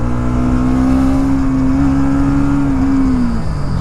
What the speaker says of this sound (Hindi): तो यहाँ पे मैं ब्रेक टेस्ट करना चाहूँगा।